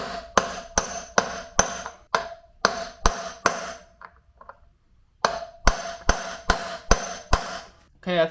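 Wheel bearing on a Honda CRF/XR70 being tapped in with a 22 millimeter socket: a rhythmic series of sharp, ringing metallic hammer blows close by, a brief pause with faint clatter, then another steady run of strikes.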